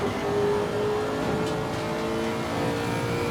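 A Lexus GT race car in Assetto Corsa Competizione drones past with a steady, loud engine note heard from outside the car, smooth and sustained with no talk.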